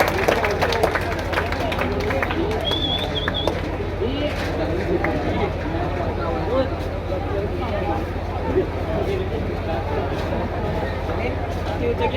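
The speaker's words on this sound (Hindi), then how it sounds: "जोरदार तालियों से स्वागत करें" A packed audience applauds in a steady, dense roar to welcome the poet Arjun Allar from Kota at a Ganesh festival poetry gathering in Kishangarh Renwal, with a voice speaking over the crowd throughout.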